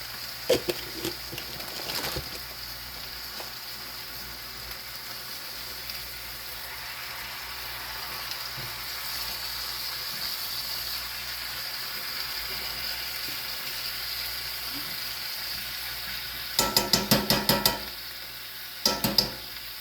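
Garlic frying in a pot for a pot roast gives a continuous soft sizzle, broken by a few sharp scrapes and clinks of a utensil stirring against the pot, with a quick burst of clatter near the end.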